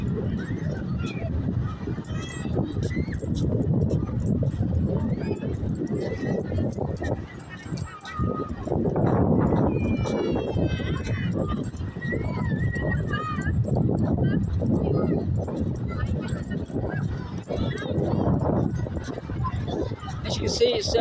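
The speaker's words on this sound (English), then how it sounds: "Coming towards me, there's some more donkeys." Donkeys walking on a busy Blackpool beach between the north and central piers, hooves clip-clopping at a steady pace under constant crowd chatter and voices.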